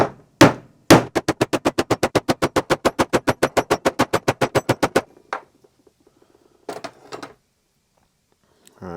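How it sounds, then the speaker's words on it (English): About two dozen quick, evenly spaced hammer blows ring out on a metal plate being bent for a jack plate, then stop, followed by a few scattered knocks and clunks. "I'm just going to hit this with a hammer and hopefully it'll bend how we need it to."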